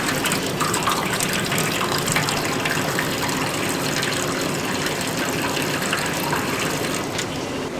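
Freshly finished maple syrup pours out in a continuous gushing stream ahead of filtering, a dense steady liquid rush that fills the whole few seconds with no break.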